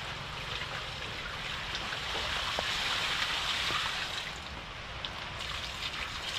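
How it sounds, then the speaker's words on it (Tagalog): Water flows steadily out of a clay jar on a farm, a continuous close splashing rush with no talk. "At dito po mas malakas ang tagastas ng tubig."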